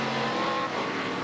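Mike Basham's number 10 ARCA race car passing on the Daytona road course, a loud, sustained engine roar with a steady high whine that shifts pitch as it goes by.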